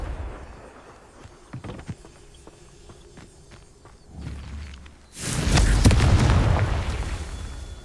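A Confringo fire spell explodes in the video game Hogwarts Legacy, a loud rumbling blast that swells after scattered light footsteps and thumps, then roars on steadily to the end.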